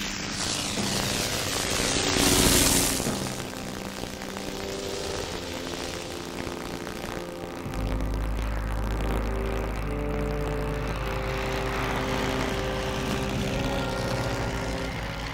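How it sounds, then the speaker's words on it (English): A WWI single-seat propeller fighter aircraft in flight, its engine a steady droning hum with a rising roar early on, then a deeper, sustained low rumble as it passes, with a slightly crackly, old-recording quality. "A new air weapon, the world's first single-seat fighter, firing forward in the pilot's line of sight"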